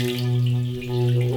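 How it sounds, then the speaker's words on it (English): An antique Himalayan singing bowl, a so-called fountain bowl, rubbed strongly with a playing stick so the water inside shoots up. It gives a loud, steady, pure sustained hum with stable overtones and a gentle swell in intensity. "So I'm going to play a little bit stronger so that you can see the way the water shoots up."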